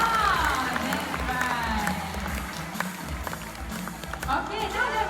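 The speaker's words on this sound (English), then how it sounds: "I think our good boy Pedro deserves a big round of applause" An audience at a sea lion splash show in Singapore claps for a performing sea lion, a steady crowd rustle of applause running under a presenter's voice and whistle-like tones throughout.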